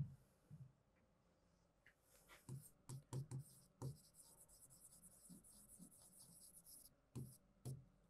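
Marker or chalk writing on a classroom board during a biology lesson, with bursts of short scratchy strokes and taps in irregular clusters, fairly quiet.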